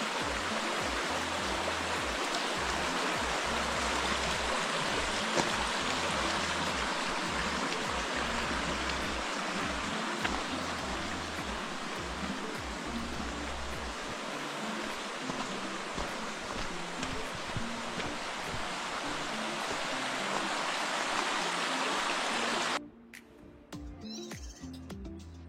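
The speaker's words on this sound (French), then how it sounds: "Le petit ruisseau." A small stream flows steadily as broadband water rush for most of the stretch, then drops abruptly near the end to quieter ambience.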